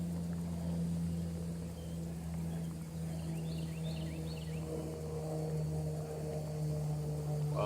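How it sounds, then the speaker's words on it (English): A T-6 Texan II training airplane flies over, a low, steady propeller drone that stays faint and distant beneath outdoor ambience. "there's a T-6 Texan II airplane flying over that the Air Force uses to train their pilots."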